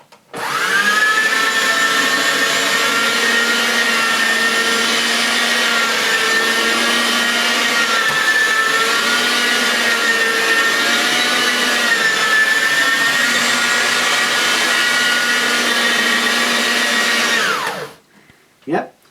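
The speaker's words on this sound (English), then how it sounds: "Yep, everything seems okay with the Hoover shampoo polisher." A Hoover shampoo polisher runs steadily for about seventeen seconds, a loud, close motor whine with a high tonal drone and slight pitch wobbles, starting abruptly and winding down at the end.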